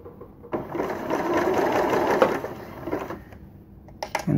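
Electronic sewing machine stitching a button on, a fast, steady mechanical whirr running for about two and a half seconds, then stopping, followed by a few faint clicks.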